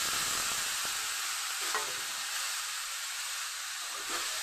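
Chili, cumin and turmeric spice paste frying with a splash of water for a fish-head and taro curry: a steady, bright hiss of sizzling that runs throughout, with occasional soft stirring scrapes.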